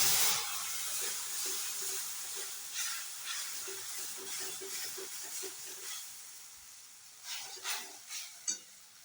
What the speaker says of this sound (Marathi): आता याच्यात थोडं थोडं करून दूध घालायचं आहे.